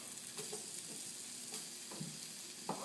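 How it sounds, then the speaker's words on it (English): Already cooked food browns in a single pot, a soft, steady sizzle with a few faint clicks and scrapes of stirring, quiet and close, with no talk. "So we're just going to brown it."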